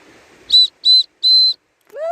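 Three sharp, loud whistle blasts close by, evenly spaced, called out to summon a pet dog, followed by a brief rising voiced sound.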